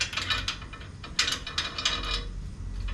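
Metal clicks and ratcheting as bolts are tightened on a crash bar mount of a Ford truck, a quick irregular series of close mechanical clicks and rattles with no talking.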